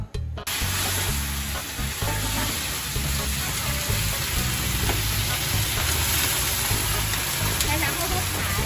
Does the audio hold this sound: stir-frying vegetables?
yes